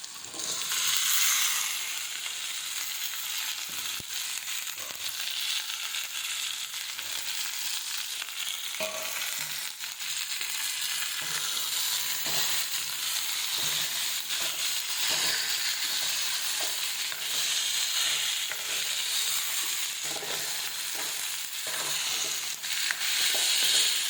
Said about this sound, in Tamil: எண்ணெய் அதிகமாக வச்சுருக்கனால இந்த எண்ணெயிலேயே வெண்டைக்காய் நல்லா வதங்கி வந்துடும்